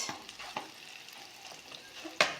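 Artichokes frying in a little oil, a soft, quiet sizzle with a few light stirring clicks and one sharper scrape near the end.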